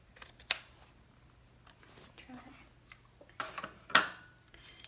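Scissors trimming a fabric seam allowance on a handbag lining, two or three crisp snips standing out against a quiet room, close and with no talk.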